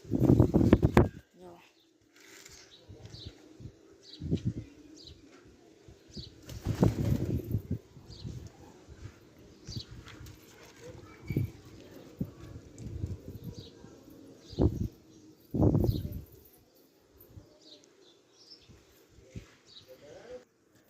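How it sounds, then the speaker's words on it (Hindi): Pigeons flutter and coo at a loft, with bursts of wing flapping and soft low calls scattered across a quiet stretch, close by and intermittent, under occasional voices. "अभी कबूतर आ रहा है नया"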